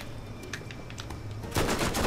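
Submachine gun firing in Borderlands: rapid bursts of clicking shots, then a louder, denser spray of automatic fire near the end, with no voices.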